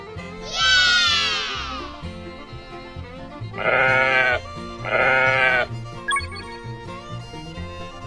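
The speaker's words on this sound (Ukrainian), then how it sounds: "Вівця." A sheep bleats three times, loud and close: first one long wavering cry, then two shorter, evenly spaced bleats, over a soft backing music bed.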